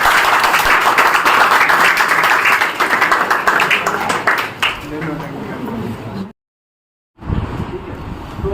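An audience at a pharmacy and paramedical college function in Hazaribagh claps to honour guests presented with bouquets, a dense run of applause and chatter that thins out, then a brief dropout of sound before voices resume.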